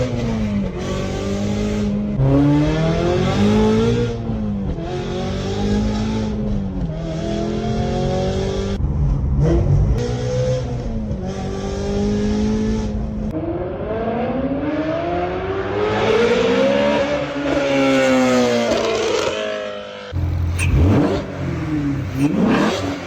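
A car engine in a racing video game revs repeatedly, rising and falling through the gears with an audible rush of intake air, loud and close with no talking.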